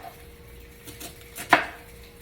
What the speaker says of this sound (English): I'm gonna just go ahead and finish cutting up my cabbage